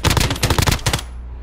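Rapid automatic gunfire in the video game Call of Duty Warzone, a loud close burst of about a dozen quick shots lasting roughly a second before cutting off.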